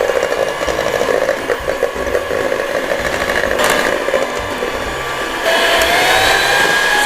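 An electric mixer whirs at high speed through cupcake batter, a loud steady motor drone that shifts pitch slightly partway through, with no talking.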